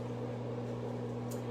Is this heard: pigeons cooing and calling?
no